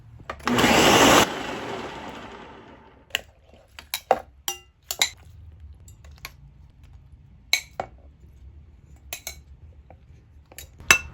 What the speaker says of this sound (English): I'm going to go ahead and blend a little bit this